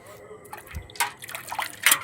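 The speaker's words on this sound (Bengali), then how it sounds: "একটু জল দিয়ে দিচ্ছি" Water poured onto a newly planted jatropha plant in soil, soft splashes and trickles in brief bursts close by, with faint speech in the background.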